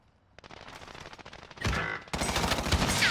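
An AK rifle fitted with a sniper scope fires in a shooter video game, with rapid automatic bursts that build into loud, dense, continuous gunfire.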